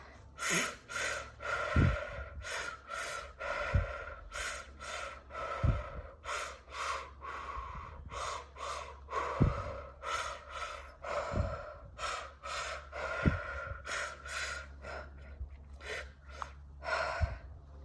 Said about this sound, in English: Inhaling through your mouth, exhaling through your mouth.